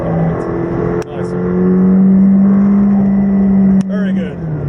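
A McLaren 620R supercar rolls into the pits at Silverstone, its engine holding a loud, smooth, sustained tone that dips and rises with gear changes, while people talk over it.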